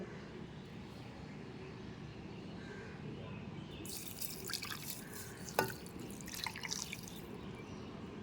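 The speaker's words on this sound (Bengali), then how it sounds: "এবার দিয়ে দেব জল" Water poured into a fresh orange juice mix seasoned with black salt and ground pepper: a splashing, trickling pour of a few seconds, close and moderately loud over a low background hum.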